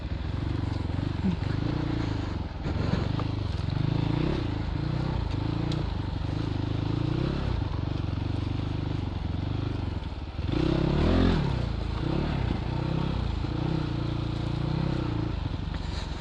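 A Christini AWD 250cc all-wheel-drive dirt bike with an auto clutch rides single track, its engine droning steadily close up with revs rising and falling and a louder surge near the end.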